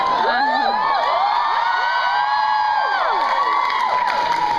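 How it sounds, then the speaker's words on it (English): A large convention panel audience cheers and whoops loudly and continuously, a dense close crowd roar with high excited voices and some applause running unbroken throughout. "How about one more round of applause for Sebastian Brock, huh?"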